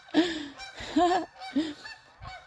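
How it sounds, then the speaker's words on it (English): Geese honking loudly and close by in a town park, several harsh calls in quick succession with short pauses between them, no talking. "And there's the geese."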